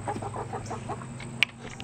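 Chickens on a Mississippi farm clucking in a quick series of soft, nearby calls over a low background hum, with one sharp click near the end.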